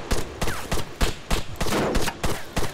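Rapid bursts of gunfire in Arma 3, a fast string of sharp, loud shots in uneven clusters with brief gaps, close and dominant with no talk over them.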